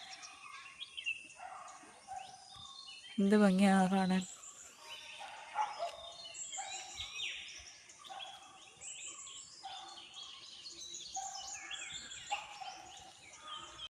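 Birds chirp and call in a morning garden full of wildflowers, with assorted short twitters near and far and one louder burst of calls early on, while a person speaks briefly.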